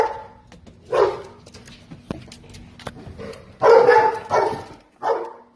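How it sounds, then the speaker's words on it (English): An aggressive dog barks several times nearby, loud sharp barks in short bursts with brief pauses between them. "You see that crazy dog?"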